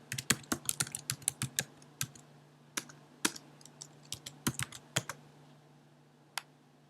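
Someone types a search into a computer keyboard, brisk uneven bursts of close key clicks with short pauses and a final lone tap, with no voices.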